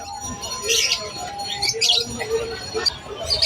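Many birds at the Malabon pet market chirp and tweet in quick bright bursts close by, overlapping amid market noise and occasional cooing, with voices faintly mixed in.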